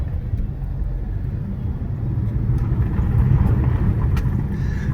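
An Audi with a tuned engine running on 93 octane fuel rumbles steadily as it drives and swings through a U-turn, the low engine note swelling slightly midway through the turn.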